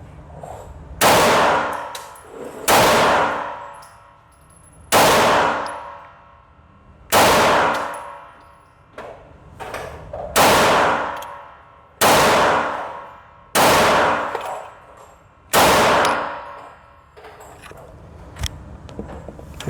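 A Canik TTI pistol fires eight separate shots at a range, each a sharp, loud crack with a ringing tail, spaced roughly two seconds apart at an uneven, deliberate pace.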